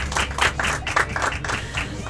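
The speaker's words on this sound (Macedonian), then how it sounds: "Ајде да ја поздравиме со еден аплауз" An audience claps in uneven bursts for a music group's performance, with distinct hand claps close by and some voices mixed in.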